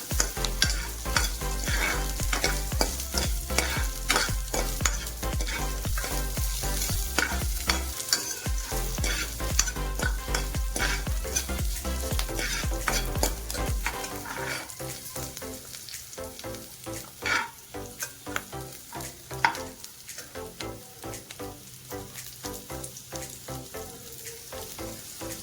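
Grated ginger and green chillies fry in oil for tomato saaru, giving a loud, steady sizzle throughout, with stirring scrapes and crackles that become sparser and more distinct in the second half; no one speaks.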